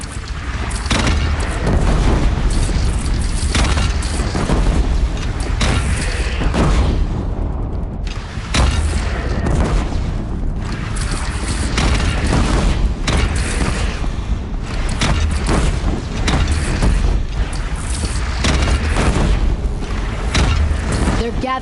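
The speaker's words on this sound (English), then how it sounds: "They only have one cannon!" In the video game Horizon, a cannon fires during a battle against a bandit clan. Heavy, repeated booms and rumbling blasts sound continuously and loudly through dense battle noise, with voices talking over them.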